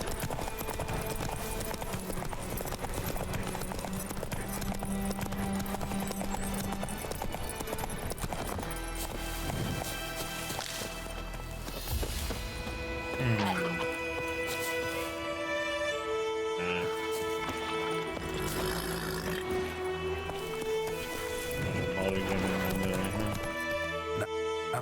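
In The Witcher 3: Wild Hunt, Roach the horse gallops through White Orchard with a continuous rhythmic clatter of hooves, steady and moderately loud beneath layered game music for the whole stretch.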